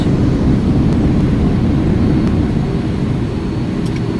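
An airliner's thrust reversers roaring during the landing rollout at San José in a flight simulator, a loud, dense, low-heavy rumble that stays steady and slowly eases off toward the end.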